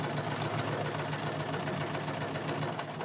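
A sewing machine stitching Thea trousers runs in one steady, continuous whir at close range throughout, with no talk over it.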